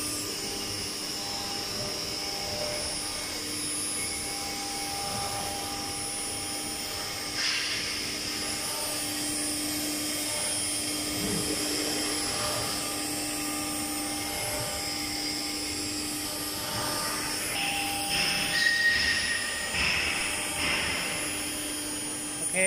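A CNC machine with automatic tool changer and Syntec FC 60A control runs with a continuous high whine and steady hum, fairly faint, with a few clunks and a rising whir late on.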